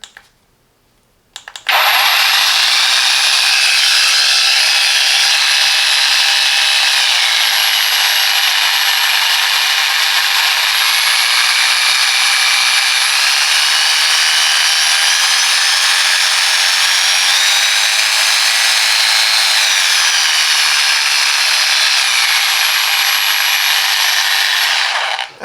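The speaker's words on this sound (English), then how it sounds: "So let's move on outdoors and test this jigsaw" Parkside PPSTK 550 A1 jigsaw switched on after a brief click, then a loud, steady high whine running without a break for over twenty seconds, close and alone, with only slight pitch wavering.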